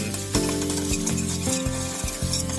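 Minced pork stir-fried in a dry pan over low heat for Thai basil pork, with a steady sizzle under repeated scraping and clinking strokes of a spatula against the pan, close and fairly loud, no talk.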